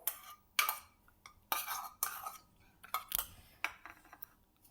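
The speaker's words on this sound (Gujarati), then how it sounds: "હવે એને આવી રીતે મિક્સ કરી લેવાનું છે." A spoon scrapes and clinks against a pan as beaten curd is mixed in for Kathiyawadi dhaba-style dahi tikhari, a series of short, close metallic knocks and scrapes in uneven bursts with quiet gaps between them.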